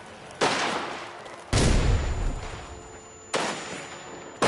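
Gunfire in Mafia: The Old Country, heard as three loud, close bursts of shots with a reverberant tail, each decaying before the next volley begins.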